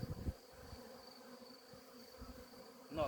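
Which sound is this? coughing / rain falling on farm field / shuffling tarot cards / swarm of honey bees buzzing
swarm of honey bees buzzing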